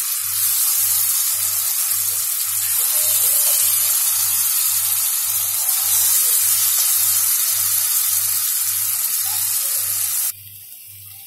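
Sabudana appe batter sizzles in hot oil in an appe maker, a steady close frying hiss running without pause before it suddenly drops off near the end, with a low regular pulsing hum underneath.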